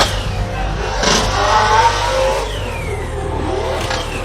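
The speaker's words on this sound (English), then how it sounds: "you can hear that 4-rotor ripping through to outer zone 3" A 4-rotor turbo Nissan S15 drift car revs hard at a Formula Drift event, its engine rising and falling in a close, loud rasp over about four seconds with crowd and track noise around it.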